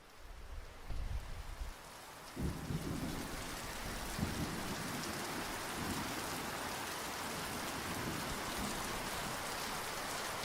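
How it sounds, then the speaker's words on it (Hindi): Heavy rain pours steadily in a dense hiss, while low thunder rumbles in a few rolling bursts early on before the downpour carries on alone. "बाहर बहुत तेज बारिश हो रही थी।"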